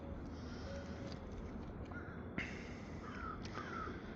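A few hoarse caws from a crow break through a steady, noisy outdoor background on the Pacific coast, spaced irregularly and moderately distant.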